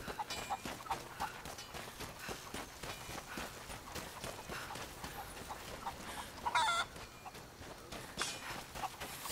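Chickens cluck and fuss in Rise of the Tomb Raider, a steady scatter of short clucks amid faint footsteps and ambient game sound, with no talk over it.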